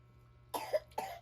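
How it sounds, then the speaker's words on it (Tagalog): A child coughs in short bursts, about three quick coughs close to the microphone, with a faint steady hum beneath and no talk during the coughs. "inuubo yung bata"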